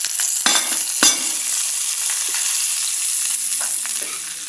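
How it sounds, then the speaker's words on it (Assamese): Spices such as turmeric, salt and cumin powder fry steadily in a hot pan, a continuous close sizzle with a couple of sharp scraping stir clicks near the start and no talking. "এইখিনিও মছলা একেবাৰে ভাজি ল'লোঁ"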